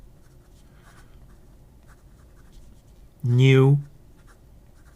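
Fountain pen with a Majohn number 8 steel medium nib on a red P141 body, scratching faintly across paper for several seconds, followed by a short, loud spoken word.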